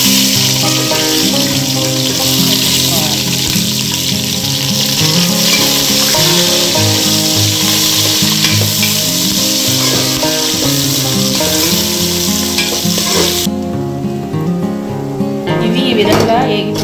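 Cashews and chopped onions fry in hot oil for Telangana bagara rice, a dense, steady, loud sizzle that runs throughout with occasional stirring scrapes.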